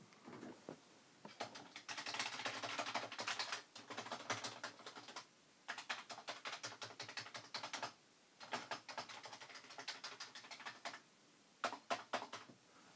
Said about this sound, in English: Let's see if the keyboard still works.